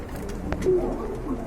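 A male running pigeon gives a soft, low coo, close and brief, over a faint background murmur.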